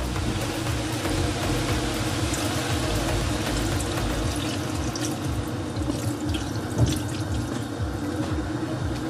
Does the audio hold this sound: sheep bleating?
no